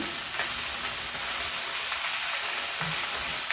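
Kale with squeezed lemon juice cooking down in a hot pan, a steady close sizzle and fry crackle running throughout with no talking.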